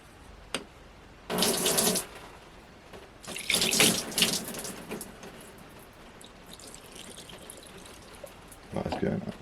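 Fuel poured through a slightly rusty makeshift funnel into a jug while getting a Yamaha WR250F dirt bike running, heard as two loud gushing bursts with splashing, quieter trickling between them and a final pour.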